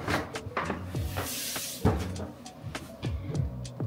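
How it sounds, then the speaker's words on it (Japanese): Close-up unboxing of a Hermès bag box bought at a Hermès store in South Korea: crisp cardboard and paper rustling with a string of sharp taps and thumps as the lid and wrapping are handled, steady and near, with no talking. "早速ですがバッグの開封です。"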